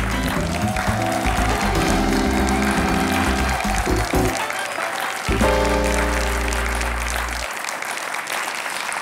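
Studio audience applause on a Bulgarian Saturday-night talk show, a dense sustained wash of clapping throughout, with loud music and musical tones playing over the first part.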